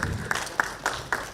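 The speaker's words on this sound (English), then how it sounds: "Big round of applause," Audience at a corporate ESG summit award ceremony applauding, a short burst of moderately loud, evenly spaced claps in a large hall.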